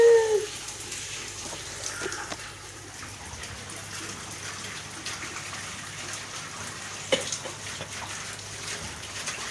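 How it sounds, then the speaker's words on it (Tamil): Rain falling steadily outdoors in a village in Tamil Nadu, a soft continuous hiss of drops with a few louder splashes and trickles, moderately faint and without talk. "எங்க ஊர்ல இன்னைக்கு மழை பெய்யுது"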